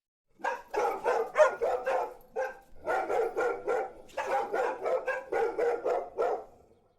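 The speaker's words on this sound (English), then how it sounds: "both dogs seemed to now be full of energy, immediately up from their slumber and staring intently at both Oliver and Ruth down with a low growl" Two dogs roused from sleep on a house porch bark in a steady series of loud, close bursts, with a short pause and then a second run of repeated barks.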